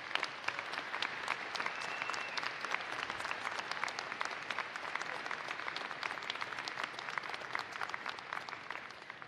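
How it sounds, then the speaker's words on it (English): Graduate commencement audience at the University of Northern Colorado applauding, sustained crisp clapping from a large crowd, fairly distant and even throughout. "Please help me in celebrating her with a big round of applause."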